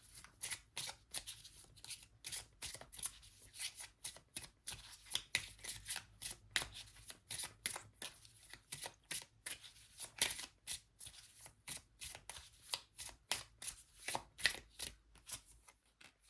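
Tarot cards are shuffled by hand in a quiet room, giving quick, soft riffling flicks and slaps that repeat in irregular bursts close to the listener.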